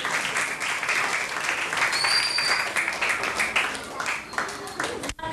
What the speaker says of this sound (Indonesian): Kita sambut dan tepuk tangan yang meriah penampilan dari kelompok